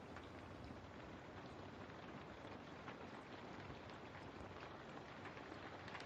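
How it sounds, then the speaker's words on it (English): Steady rain ambience, a dense even patter of drops falling on a surface, continuous and uniform with no voices. "I always do like rain sounds"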